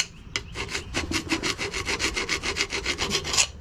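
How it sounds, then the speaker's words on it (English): A tool scratches a mark onto a Ford Expedition front brake rotor, a rapid series of about fifteen close, harsh rubbing strokes in quick, even rhythm, with no talking. "Just scratch it just a little bit so I know that that goes to the top"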